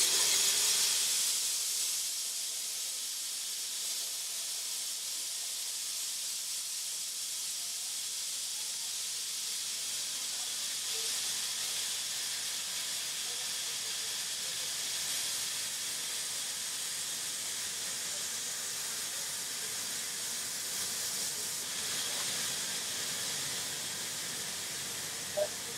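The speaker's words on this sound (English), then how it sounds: "You push that down, and the water will start to drain." Water draining out through a freshwater tank drain valve, making a continuous broad hiss that stays steady and fairly loud for nearly half a minute with no talk over it.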